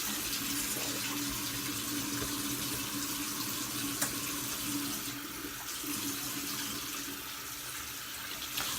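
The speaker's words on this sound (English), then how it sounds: "Just real hot water." Hot water runs steadily from a tap, a continuous close hiss and splash holding at an even level the whole time, with no talking.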